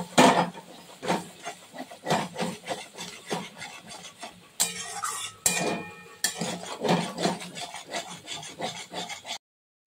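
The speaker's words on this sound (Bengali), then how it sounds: "মশলাটা এবার সুন্দর করে কষিয়ে নেব" A spatula stirs and fries a thick spice paste with cashew, poppy seed and almond in a pan for prawn muitha. Steady rhythmic scraping strokes repeat close up, with a few louder sizzling scrapes.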